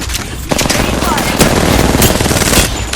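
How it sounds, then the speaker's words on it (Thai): Loud, sustained automatic gunfire in the Apex Legends video game, a dense rattling burst that fills the whole moment, with close in-game shots layered over it. "I'm under fire."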